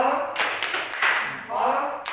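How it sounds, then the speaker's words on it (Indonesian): A primary school class in Indonesia does a short 'tepuk salut' clapping cheer, bursts of claps from the group with children's voices chanting along, close and lively in a classroom. "Diberi tepuk salut."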